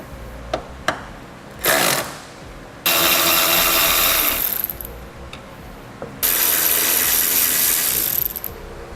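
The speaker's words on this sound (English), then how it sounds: "We'll also need to remove all the bolts on the long flat side of our tailgate and the ones along the top." A ratchet with a T30 Torx socket removes tailgate bolts on a 2019 Honda Ridgeline, giving close, loud bursts of rapid clicking: a short burst, then two longer runs of several seconds each. Quiet pauses separate the bursts.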